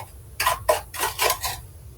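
A teaspoon scooping sugar into an unheated Greek coffee pot gives a short run of four or five close, crisp scraping taps in quick succession, alone in a quiet room.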